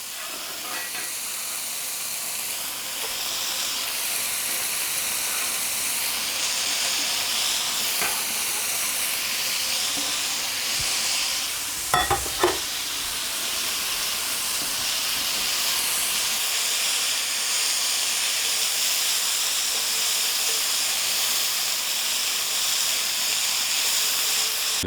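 Pork chow mein noodles with spring onions stir-fry in a hot pan or wok, making a loud, continuous hissing sizzle with a brief clatter of tossing partway through.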